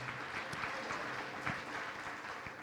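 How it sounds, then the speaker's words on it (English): Guests at a gala applaud the elected officials in the room, a brief, dense burst of clapping from a crowd. "Would you just give all the electeds in the room a big round of applause?"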